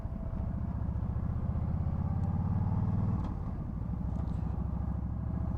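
A Yamaha XVS 1300 Stryker's liquid-cooled 1300 cc cruiser engine idles with a deep, steady rumbling throb, close by, its pulsing rhythm shifting slightly partway through.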